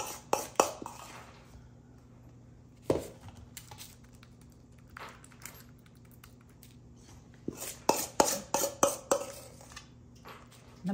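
A spoon scrapes and taps against a bowl while a mashed avocado and cheese mixture is dolloped onto parchment for avocado bread, with sharp clinks in bursts near the start, middle and end and quiet pauses between.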